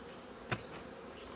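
Black honey bees in an opened hive, a faint steady hum with a couple of brief louder buzzes as single bees pass close.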